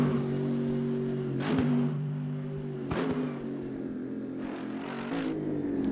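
Mercedes-AMG GT3 EVO race car engine in Assetto Corsa Competizione at Mount Panorama, droning steadily at high revs with several sharp gear-shift blips and surges, loud and close throughout.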